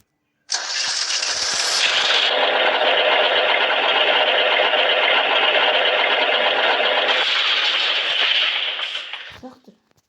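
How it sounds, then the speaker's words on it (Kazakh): Chugging tractor engine from a Minecraft farm mod, starting up and running steadily with a buzzy, rattling drone for several seconds before cutting off abruptly near the end. "Трактор. Сен бұл тракторын жүрсің ғой."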